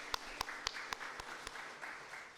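Members of a church congregation at a Sunday service clap in welcome, faint, sparse applause with several distinct sharp claps in a loose rhythm, with no talk.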